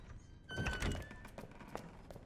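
A door in Resident Evil 2 is unlocked with a key and swings open, giving a couple of muffled thunks and a short mechanical clunk at moderate volume, with no speech over it.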